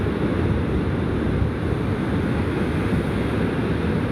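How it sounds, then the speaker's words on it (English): Ocean waves break and wash onto the beach at La Jolla Shores under grey June skies, a dense continuous roar of surf mixed with wind rumble on the microphone, steady and close, with no voices. "Try to focus on these waves for you."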